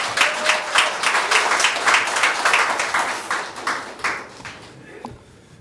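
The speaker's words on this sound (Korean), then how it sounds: "뜨거운 박수로 환영해 주시기 바랍니다" Party members at a rally in Wonju applaud to welcome a candidate for the supreme council. The clapping is dense and lively at first, then tapers and fades out over about five seconds.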